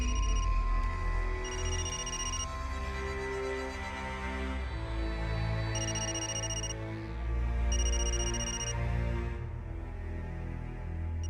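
A mobile phone belonging to Anjali Sharma rings indoors, its electronic ringtone repeating a bright melodic phrase over and over in a loud, steady pattern with short gaps, with no one speaking.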